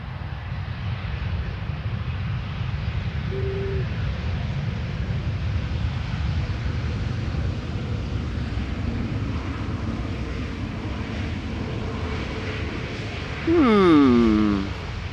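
A Play Airbus A321neo airliner landing at Amsterdam Schiphol Airport, a steady distant engine roar mixed with wind buffeting on the microphone, swelling into a louder, closer rush near the end.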